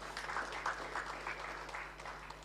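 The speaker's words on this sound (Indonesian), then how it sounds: "Tepuk tangan untuk Tuhan." Church congregation clapping during a sermon, a moderate, somewhat uneven patter of hands heard over a low steady hum, lasting a couple of seconds.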